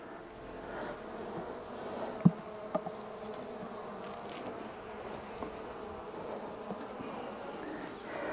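Honey bees buzz steadily at an open queenless hive and nuc outdoors, a soft continuous drone with a few faint knocks and clicks, no voices.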